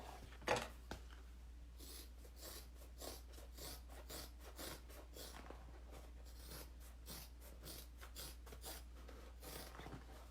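Fabric being cut with scissors while sewing a saddle bag: soft, repeated snipping and rasping strokes at close range, fairly quiet, with one sharper click near the start and no talking.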